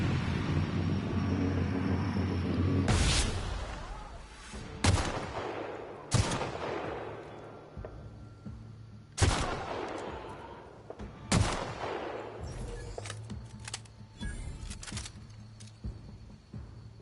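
Rifle gunfire in the video game The Outer Worlds during a fight with marauders: several loud, sharp shots spaced a second or two apart, each followed by a brief echoing decay over a low, steady background hum.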